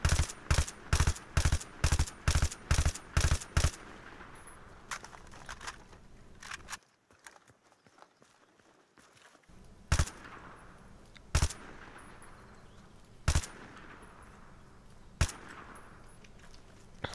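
Rapid rifle bursts in Battlefield 3 from a weapon fitted with a foregrip: a quick string of loud, sharp shots up front, a brief lull, then a few spaced single reports ringing out with echoing tails.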